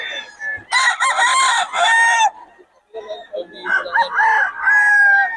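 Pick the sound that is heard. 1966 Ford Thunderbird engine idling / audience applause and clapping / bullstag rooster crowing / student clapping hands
bullstag rooster crowing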